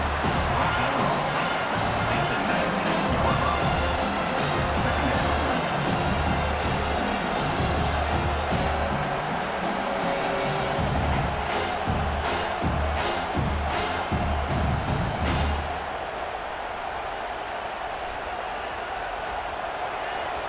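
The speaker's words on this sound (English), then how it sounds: "This crowd, full throat, splitting the eardrums" A packed stadium crowd in the EA Sports College Football 25 video game roars loudly and steadily, then the noise drops off sharply near the end.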